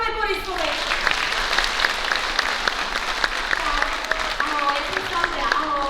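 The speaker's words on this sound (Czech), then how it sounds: "zatleskáme Borisovi" Preschool children applaud a classmate named Boris, their dense, busy clapping running steadily for several seconds while an adult voice speaks over it and young voices chatter in the background.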